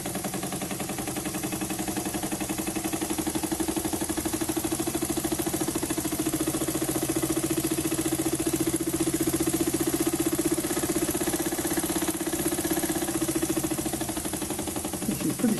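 A small steam engine built from a spark plug runs steadily, a fast, even mechanical chugging with a humming vibration, close and constant throughout with no talk.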